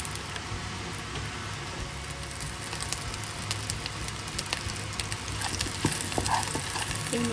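Garlic and panch phoron spices fry in mustard oil for mixed vegetables, giving a dense, even sizzle close by with occasional stirring clicks and a few small pops throughout.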